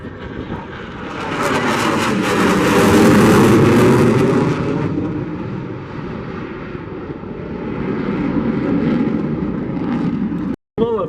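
Twin-engine jet fighter with afterburner roaring past at an airshow, a loud sustained rumble swelling to a peak and easing off, with a voice over a loudspeaker talking above it.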